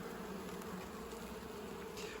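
Honey bees buzz steadily and continuously around a colony being moved from a horizontal hive into a polystyrene hive, a dense even hum with no talk.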